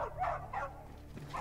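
A cartoonish dog from the Nintendogs video game barks and yips in a few short, bright bursts, clear and alone.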